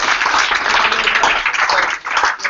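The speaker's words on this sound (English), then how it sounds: "Give them a round of applause" A room full of people applauds a startup pitch for a car-sharing business, dense continuous clapping that stays loud and close with a brief dip near the end.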